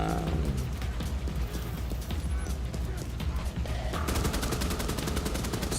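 Turret gunfire in The Division 2 video game: a continuous clatter of shots under the game mix, turning into a fast, evenly spaced stream of rapid-fire bursts in the final seconds.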